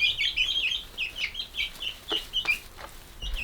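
Chickens cluck and chirp in a cluster close by, a steady run of short overlapping calls with no talk over them.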